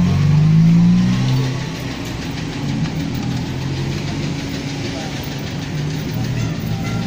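Engines rumble past on a busy Intramuros street crowded with motorcycles, a louder swell at first easing into a steady drone of passing traffic nearby.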